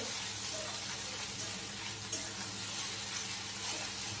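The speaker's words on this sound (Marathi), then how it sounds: "झाकण न ठेवताच आता भेंडीची भाजी कमी गॅसवर छान शिजून द्यायची आहे।" Okra bhaji (bhendi) cooks uncovered in a pan over a low flame, making a faint, even sizzle that holds steady throughout without voices.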